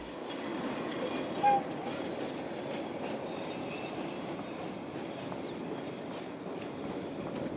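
A passenger train rolls along rails in southern Bolivia near Tupiza, heading toward the Argentinian border, with a constant low rumble of wheels and faint metallic squeals, heard at a distance with no voices.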